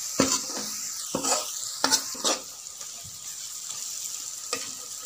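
Stuffed eggplant masala frying in a pan, several clattering stirs of a utensil against the pan over a low sizzle, close by, with the scraping thinning out toward the end and no voices.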